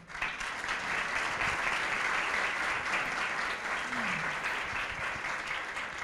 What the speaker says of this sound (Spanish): Bueno, muy bien, un aplauso.